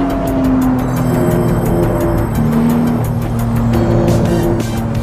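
Nissan GT-R sports car in a VR driving game racing past at high speed on a lakeside road, loud and continuous engine roar with a steady mechanical drone throughout.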